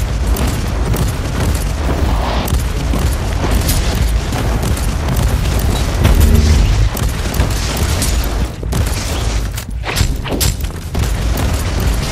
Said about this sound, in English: Stands in, shots fired.